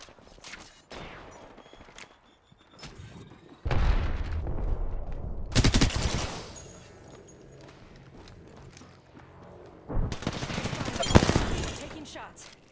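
Gunfire in the video game Newcastle: bursts of rapid shots crackle throughout, with loud heavy volleys standing out at several points over a busy background of game sound.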